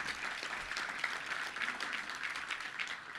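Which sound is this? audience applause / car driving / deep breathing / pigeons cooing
audience applause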